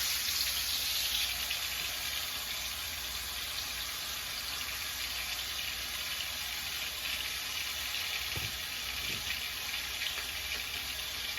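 Food sizzling in a hot pan during steak and nopalitos preparation, a steady bright crackling hiss that carries on evenly throughout, with a couple of faint low knocks near the end.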